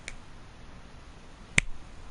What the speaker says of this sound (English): Literally, the finger snap.